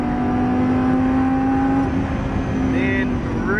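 Lamborghini Gallardo LP570-4 Superleggera engine pulling hard down a race track straight, a loud sustained drone with rising tones heard from inside the car, with brief chirps near the end.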